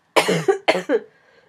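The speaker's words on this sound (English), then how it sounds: "the end of you having to listen to my coughing" A short fit of coughing: four harsh coughs in quick succession, close and loud, trailing into a faint wheezy breath.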